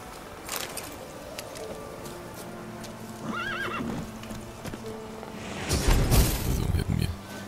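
Horses in The Witcher 3 video game, with a neigh in the middle and hooves trotting, a louder burst of hoofbeats near the end, under game ambience and occasional talk.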